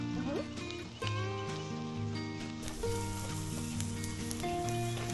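Onions frying on a camp stove, a steady close sizzle with occasional clinks and scrapes of stirring, overlaid with other faint tonal sounds.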